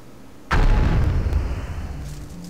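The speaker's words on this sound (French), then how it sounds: "Appuyez sur croix pour sauter, puis sur carré pour activer la bombe." Dark Bomb explosion in the video game Jak and Daxter II: a single sudden, heavy boom that rolls off into a long, rumbling decay, with no talking over it.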